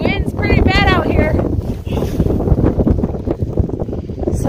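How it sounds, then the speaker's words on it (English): Strong wind gusts across the microphone outdoors on a snowy farm, a loud rough roar that dominates throughout, with animal calls briefly audible early on. "The wind's pretty bad out here"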